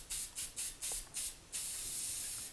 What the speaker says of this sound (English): So I'm going to just spray this.